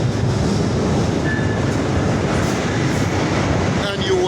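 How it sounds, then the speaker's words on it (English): A long train rolls by close and loud, a continuous heavy rumble of wheels and carriages with faint clatter and a brief high squeal near the end. "See that long line of train?"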